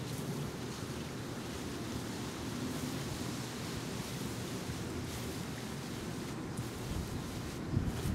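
Dithiopyr 40 WSB pre-emergent herbicide sprays from a cone fan nozzle onto weeds as a faint, continuous, even hiss that runs steadily throughout, with no speech.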